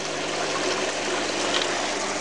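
Water runs steadily from an overflow pipe fitted to an outdoor fish pond, a continuous close trickle and splash with no break and no voices.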